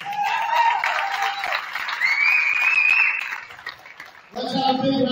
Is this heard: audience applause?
yes